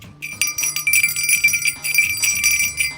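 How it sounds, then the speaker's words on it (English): A jingle bell brought back from North Pole, Alaska, shaken close and loud in rapid, uneven bursts of bright metallic tinkling that run through the whole stretch. "about the jingle bell?"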